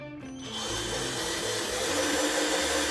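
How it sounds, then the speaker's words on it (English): Cordless drill bought online, used while fitting roof skids to a Redcat Kaiju EXT RC truck, whirs steadily and loud at close range, starting up in the first half second and running continuously with no talk. "I got this very nice cordless drill on Amazon"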